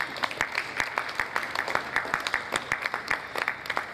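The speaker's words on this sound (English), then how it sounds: "Once again, please, a round of applause for QF Talali as they come up the stage." Audience at a business roundtable on construction-industry appropriations applauds as the moderator comes up to the stage, moderate clapping with distinct, steady hand strikes throughout.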